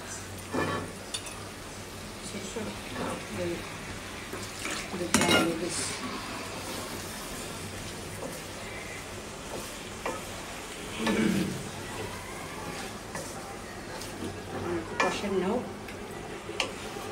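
Potatoes sautéing in oil in a pan as a Bengali curry with pangas fish is cooked, with repeated spatula scrapes and stirring clatter over a steady low sizzle, close by.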